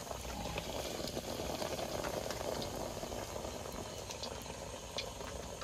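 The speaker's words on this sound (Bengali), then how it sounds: "একটা তেলের মধ্যে ছেড়ে দিয়েছি, এবার একটা একটা করে ভেজে নেব" Malpua, sweet batter fritters, bubbling in hot oil, a steady dense fizzing and boiling crackle that holds at an even level throughout with no talk.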